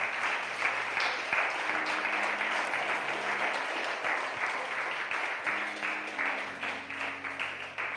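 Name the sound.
congregation applause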